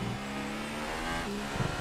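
A Formula 1 car engine in a racing video game roars steadily at high revs, a sustained buzzing whine with a slight pitch shift near the end.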